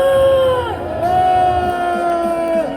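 Massed voices at an outdoor Korean rally raise a loud group shout on command, a continuous roar that dips, then rises and holds at a steady pitch, fading near the end.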